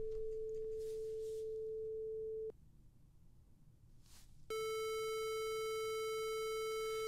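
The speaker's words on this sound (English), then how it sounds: "So you hear the sine wave in there," A synthesized pure sine tone plays steadily, cuts out for about two seconds, then returns layered with a bright stack of buzzy harmonics, forming a composite tone. It is clean and close, with no voices.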